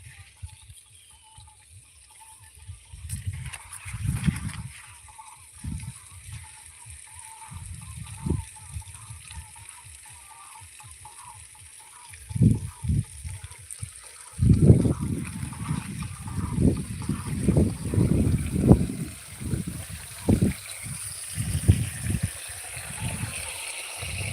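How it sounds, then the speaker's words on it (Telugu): Water rushes and splashes in uneven surges, growing louder and more turbulent partway through, with a steady high hiss in the background. "నీళ్ళు ఫుల్ పోతున్నట్టున్నారు"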